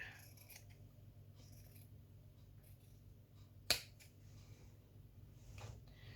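Scissors cutting through fabric of an old garment in a quiet room, a few faint soft snips and one sharp close snip near the middle, otherwise near silence.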